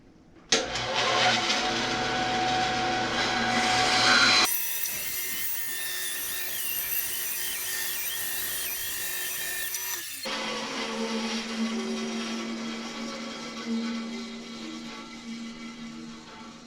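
A bandsaw cutting the corners off a wooden piece on a temporary circle-cutting jig: a sharp motor start, a loud sustained whine while the blade cuts, then a lower steady hum as it runs on.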